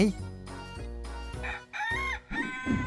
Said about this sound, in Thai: เมื่อไก่เปิดปากและเตรียมพร้อมที่จะขัน